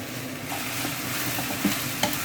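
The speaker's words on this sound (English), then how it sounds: "So the purpose of this frying, since we are not frying to golden brown" Chicken sizzles steadily in a hot pan, with a few soft scraping stirs and light clinks breaking through the constant frying hiss.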